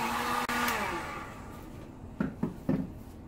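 A heat tool blows hot air over a craft piece, giving a strong whooshing hiss that fades after about a second, followed by a few soft knocks and clicks.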